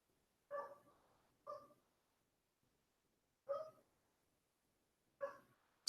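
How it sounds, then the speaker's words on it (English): Dogs bark outdoors in four separate short barks spaced a second or more apart. They sound moderately distant, with near silence between them. "We have many dogs are barking."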